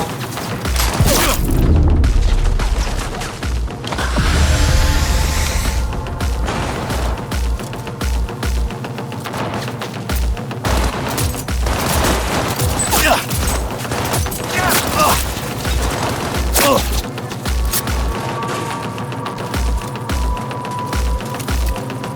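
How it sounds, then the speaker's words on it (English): Combat gunfire in Cyberpunk 2077: loud rapid bursts and repeated shots with booms and splintering debris, a dense continuous barrage, with in-game voices shouting over it. "Open fire!"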